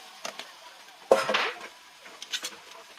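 Chicken pieces being stirred in a metal cooking pot for a Maranao piyaparan dish with coconut, giving a few clanking scrapes of utensil against pot, one louder knock in the middle, quiet between.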